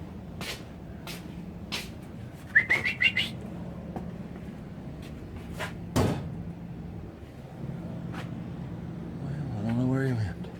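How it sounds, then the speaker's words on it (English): A bird chirps inside a workshop in short bursts of thin high tweets, scattered with clicks and knocks, then a longer trill near the end, fairly faint against quiet room noise. "There's a bird in here."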